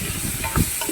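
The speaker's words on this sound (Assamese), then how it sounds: "মেথি দি পিনি ভাজি আছোঁ আলুখিনি" Boiled potatoes fry in oil with fenugreek seeds and a dried chilli, giving a steady sizzle broken by one brief stirring scrape.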